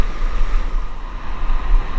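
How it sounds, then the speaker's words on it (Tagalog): Strong sea waves surge around a small fishing boat off Anajao Island, a continuous loud wash of water and wind buffeting the microphone with no break. "Lakas ng alon."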